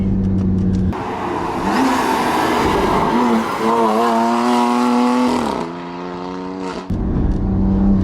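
A BMW M2 Competition driven hard on a winding road roars loudly up close, its engine revving and climbing in pitch through the gears while the tires squeal, with no talking.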